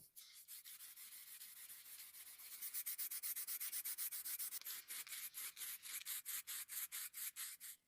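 Wet sanding with 400-grit paper over the sprayed varnish finish of a plywood armchair makes rhythmic, close scratchy strokes, starting continuous then breaking into quick evenly spaced back-and-forth rubs.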